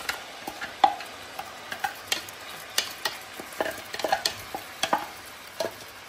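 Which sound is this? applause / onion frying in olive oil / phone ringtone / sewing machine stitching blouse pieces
onion frying in olive oil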